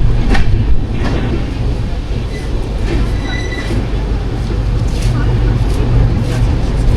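A train rumbling into Durgapur station on the Kolkata to Agra route, loud continuous wheel-on-rail noise with some clacking and faint squeals, and people talking underneath.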